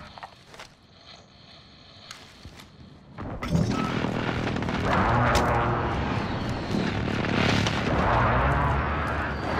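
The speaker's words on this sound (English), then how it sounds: "Enemy precision airstrike inbound." Airstrike explosions in the Call of Duty Modern Warfare video game: a quieter opening with scattered thumps, then a loud, sustained roar of blasts and rumbling debris filling the rest.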